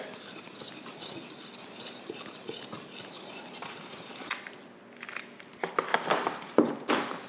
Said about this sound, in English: white sugar, and brown sugar. I'm gonna mix all that together